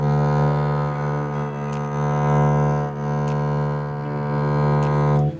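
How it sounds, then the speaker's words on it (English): A bowed double bass holds a single sustained note whose tone wavers and swells unevenly, with slight scratchy bow noise and shifting loudness across the stroke. "If my tone quality is not so good, it might sound like this."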